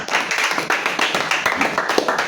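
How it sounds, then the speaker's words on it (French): Children and adults of a Sunday school congregation clap together in praise, a steady rhythmic patter of many hands close by. "Acclamons donc pour la gloire de Dieu"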